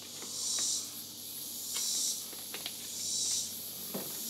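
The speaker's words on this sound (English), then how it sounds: "Are those bugs really annoying y'all that y'all can hear in the background?" Insects buzz and hiss outside an open garage door in swelling waves, with three louder high-pitched pulses and a few faint ticks, steady and moderately distant in the background.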